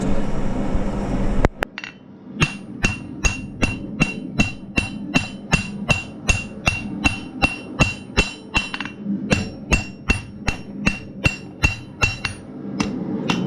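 Steady, ringing hammer blows beat out a railroad spike being forged into a knife, around two dozen evenly spaced metallic strikes that pause briefly once, close and loud, with no voices.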